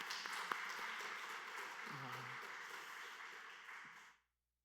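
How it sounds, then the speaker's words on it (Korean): A church congregation at a Wednesday service claps in encouragement, a continuous broad patter of many hands held at an even level before cutting off abruptly, with a voice briefly audible underneath. "우리 격려의 박수 하도록 하겠습니다"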